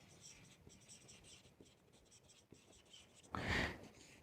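A pen scratches across paper in short strokes and scribbles during a Hindi accounting lecture for class 12 on a partner's retirement. A voice speaks over the quiet writing, and a louder burst of scribbling comes near the end.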